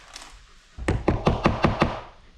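Hammer blows drive finishing nails into a board to stretch a fur hide, six sharp knocks in a quick, steady rhythm, close and loud with no talk.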